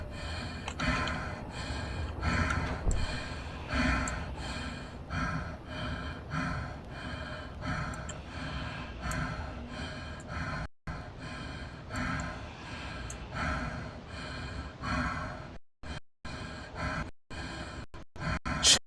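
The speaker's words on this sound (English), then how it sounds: "Oh, stop breathing like that." Heavy, repeated breathing from a character in the video game Tales of the Valentia, rhythmic gasps and snorting inhales that run loud and steady with a few brief drop-outs near the end, no talking.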